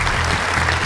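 Applause from a small group at a Jeju black pork barbecue restaurant in Chuncheon as side dishes are set out, steady clapping close by for just under a second.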